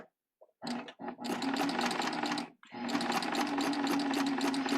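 A serger sewing machine feeds fabric for gathering, starting with a couple of short bursts and then running in a steady, fast mechanical whir with one brief pause. The sound is nearby and there is no talk.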